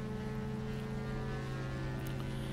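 Twin engines of an Aerobask Diamond DA62 in X-Plane 11 hold a steady, droning hum with strong low tonal bands, loud and unchanging throughout as power is run up for takeoff.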